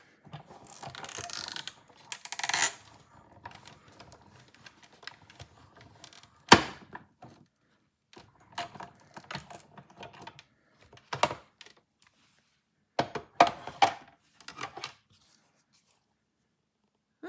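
A die cutting machine cranking a card base through for a shaped card, irregular clicking and ratcheting bursts separated by short pauses, close and fairly quiet.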